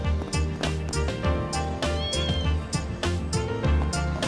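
A cat meows in The Legend of Heroes: Trails Beyond the Horizon video game, a few short calls set over busy rhythmic game music that stays louder throughout.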